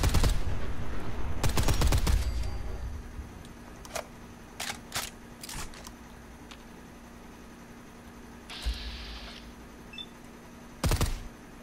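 Gunfire in Fallout 4, a loud burst of rapid shots at first, then scattered single cracks and short bursts spread over the following seconds, with quieter ambience between them.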